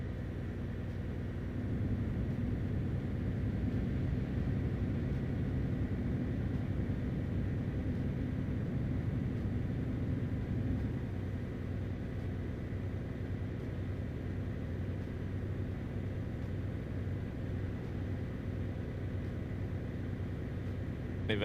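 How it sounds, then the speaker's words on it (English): Iveco truck engine in the Euro Truck Simulator 2 video game, a steady low drone held at even loudness throughout with a broad rumbling body and no talk over it. "Now this truck actually has a decent sounding engine in it."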